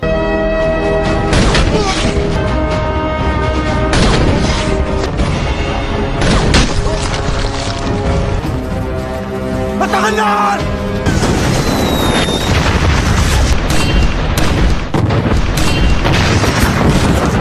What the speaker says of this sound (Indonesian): Setelah beberapa rudal diluncurkan ke arah Zarin